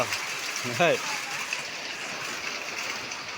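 Heavy rain pours down during a fishing trip, a steady, dense hiss throughout, while a voice briefly speaks near the start.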